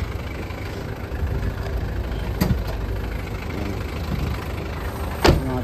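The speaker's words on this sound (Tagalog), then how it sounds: "Makina na ito, legendary 4D56 mga boss" A Mitsubishi 4D56 diesel engine in a 9-seater vehicle idles nearby with a steady low rumble and a faint mechanical clatter, broken by a couple of brief clicks.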